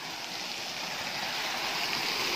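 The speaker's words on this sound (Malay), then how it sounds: "ini air terjun yang saya naik sebelum tu" A waterfall along the old Gombak–Karak road in Malaysia produces a steady, loud, close rush of falling water, an unbroken broadband roar with no voices.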